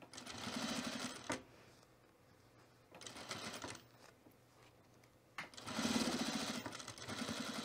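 A sewing machine stitching a puffer vest at a shorter stitch length runs in three bursts of fast, even mechanical chatter, each stopping dead, with quiet pauses between them.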